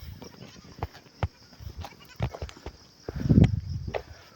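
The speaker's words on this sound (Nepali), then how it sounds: "हेर्नुहोस् बाख्रा पनि कस्तरी चढ्छ मृग जस्तो" Goats bleat on a steep hillside, with scattered near calls and a louder burst late on, while a voice talks at times in the open air.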